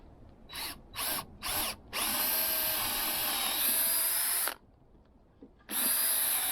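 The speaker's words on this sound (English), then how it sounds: "Now I'm going to drill them out." A power drill boring holes in pieces of wood for a saw horse: three short revving bursts, then a long sustained whine, a pause, and another run at the end, loud and close.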